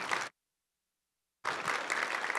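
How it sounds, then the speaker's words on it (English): Audience applause at the close of a panel session on publicly funded healthcare, a short dense burst that cuts to silence for about a second before resuming at steady volume. "if we can give everyone a round of applause just for sharing their thoughts"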